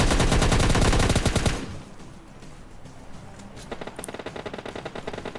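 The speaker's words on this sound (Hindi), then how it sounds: "सामने फायरिंग भी हो रही थी" Rapid automatic gunfire in the mobile battle royale game PUBG Mobile Lite, a loud sustained burst of close shots that stops abruptly, followed by quieter, fainter rattling bursts from farther off.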